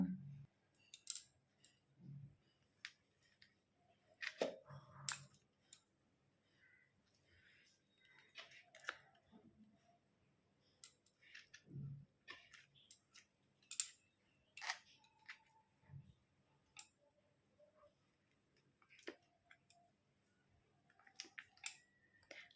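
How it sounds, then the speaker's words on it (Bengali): A knife cuts a 400 g block of paneer into cube-sized pieces for a vegetarian recipe, giving scattered quiet taps and thin clicks against a board at an irregular pace, with faint low thuds in between. "এবার পনিরগুলোকে আমি টুকরো টুকরো করে কেটে নেব।"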